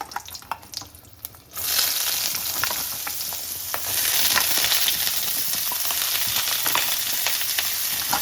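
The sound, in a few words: vegetables frying in a pan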